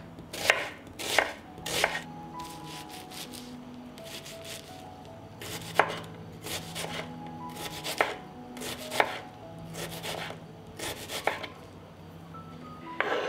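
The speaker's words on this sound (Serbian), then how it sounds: "taman ću za to vreme iseckati jedan crni luk" Rapid knife chops on a cutting board as an onion is chopped, sharp taps in quick bursts with brief pauses, close and fairly loud against a soft background hum.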